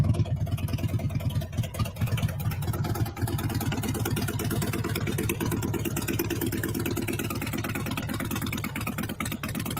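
A motorcycle engine keeps running steadily while the bike is being towed, a loud, continuous low rumble with a fast even pulse and slight swells in level.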